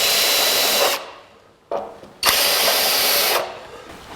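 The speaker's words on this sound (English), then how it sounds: "Grind it off." Angle grinder grinding off welds on a 1949 Chevrolet Gasser brake-line fitting, a loud, harsh high whine that runs, stops, bursts again briefly and then resumes in a long pass, close up.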